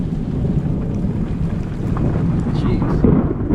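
Thunder rumbles through a severe thunderstorm over a bay, a loud low roll that swells and keeps going, mixed with wind buffeting the microphone, with voices speaking at times.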